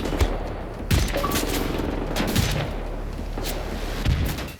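Rapid rifle gunfire from a marksman rifle in the Wolfenstein shooter game, several sharp shots spread across a dense, noisy combat scene full of overlapping battle sounds.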